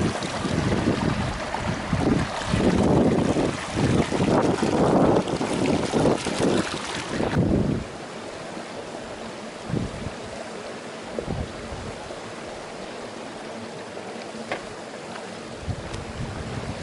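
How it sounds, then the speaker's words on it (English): A mountain stream flows beside a hiking trail, broadband rushing water loud up close for the first several seconds, then quieter and steadier as the listener moves off, with a few soft bumps. "really good stream flowing through here"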